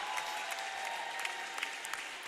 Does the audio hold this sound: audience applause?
yes